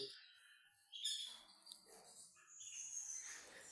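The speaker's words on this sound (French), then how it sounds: "les battements de plumes se font entendre, et les petits chants gazouillants de temps en temps" Birds chirp in small, faint, high tweets that come and go in sparse bursts against a quiet background, with light fluttering wing sounds.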